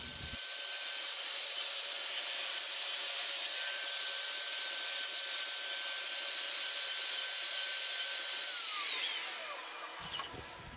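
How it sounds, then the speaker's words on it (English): A CNC router with a quarter-inch down shear bit peck-drills hold-down holes in wood, giving a loud, continuous high-pitched whine and hiss that shifts pitch late and drops off briefly at the end. "the first operation I do is drilling out the holes to hold it down to the table while I machine the pocket on the inside"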